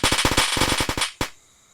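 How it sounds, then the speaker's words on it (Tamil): Diwali firecrackers explode in a rapid string of sharp cracks, more than a dozen crisp bangs in quick succession, then a last loud pop after a short gap before the sound drops away. "இதை போடுவோமா கோய். எடுத்து வச்சு பற்ற வைப்போமா."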